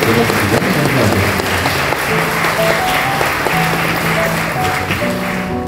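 Wedding guests applaud the bride and groom in a hall, a loud, dense and sustained round of clapping with faint voices and a soft musical tone underneath.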